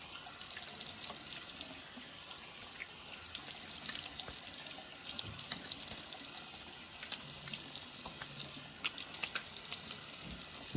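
Cool water runs steadily from a tap to rinse the face during a shave, a continuous bright splashing stream, close and even throughout with no voice over it.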